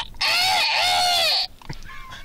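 A person imitates a hen with a sustained, strained, nasal squawk lasting over a second, loud and close, followed by softer, fainter vocal noises.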